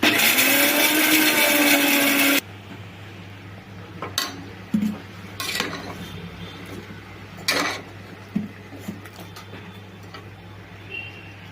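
An electric mixer grinder whirs loudly for about two seconds, grinding coconut and cashew into a thick paste for veg kurma, then cuts off, followed by scattered clinks and taps of kitchen utensils against a low steady hum.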